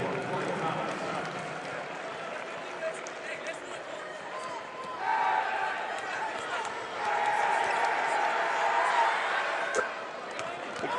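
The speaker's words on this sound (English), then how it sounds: "Good crowd here at Carver Arena," Crowd noise in a basketball arena, Carver Arena, a broad steady murmur of spectators that swells midway, with occasional thumps and a play-by-play voice talking over it.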